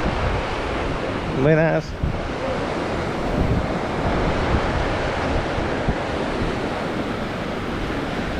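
Steady surf breaks along the shore at Playa Mamitas in Playa del Carmen, a continuous roaring wash mixed with wind buffeting the microphone, while a passerby briefly calls out a greeting.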